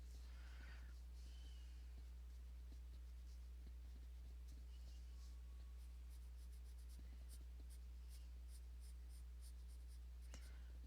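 Zenacolor colored pencils scratch faintly across paper in quiet, steady strokes, broken by short bursts of tapping, against a low background hum with no talking.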